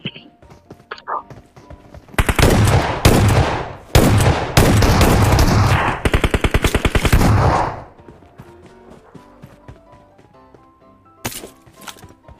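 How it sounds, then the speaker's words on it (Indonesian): UMP submachine gun firing in a battle-royale video game, several loud rapid bursts of automatic fire over a few seconds, then quieter game sounds and one short burst near the end. "Ini senjata nih, UMP nih."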